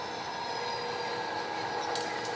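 Steady low rumble of a model train running on a JMRI-operated layout in Huntington Beach, continuous and fairly quiet, with a brief faint high squeal near the end as it rounds a curve.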